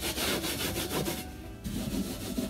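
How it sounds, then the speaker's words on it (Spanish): Steady back-and-forth scrubbing of stuck plastic residue off a wooden kitchen cupboard shelf, close and loud, in rhythmic strokes with a short quieter pause midway. "Voy a hacer todo lo posible de quitarle el plástico que tenía aquí pegado."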